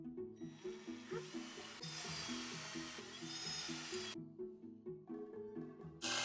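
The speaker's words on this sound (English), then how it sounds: "drilling out the divots with an 1/8 inch drill bit" A whining 1/8 inch drill bit bores out T-nut divots in steady, high-pitched bursts, close and fairly quiet, with a low rhythmic hum underneath.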